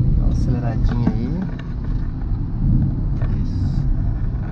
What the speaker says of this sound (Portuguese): Só acelerar e retomar a quarta marcha, tá? Dá uma aceleradinha aí.